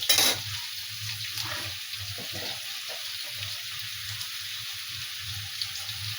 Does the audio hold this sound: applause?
no